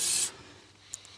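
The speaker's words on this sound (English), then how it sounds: "Get some silicone spray in them first" Silicone spray is shot into the window guides of a Rolls-Royce Silver Spirit III in one short, close hissing burst that stops abruptly, followed by faint quiet handling.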